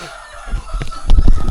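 Chickens cluck in a short, close burst of several calls on a cool, rainy day, rising in loudness toward the end.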